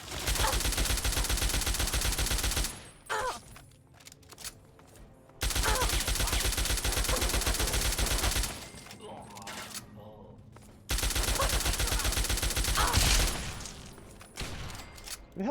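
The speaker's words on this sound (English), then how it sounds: "Oh, they got turrets in here." Automated turrets firing in Fallout 3, three long loud bursts of rapid continuous gunfire separated by short pauses, with a player's voice in the gaps.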